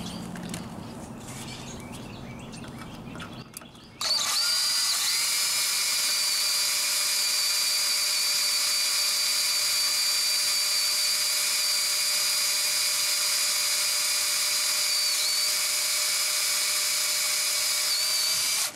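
After a short lower whir, a drill spins up into a steady high-pitched whine as the bit bores into 3/16 steel plate lubricated with oil, loud and close, holding a constant tone.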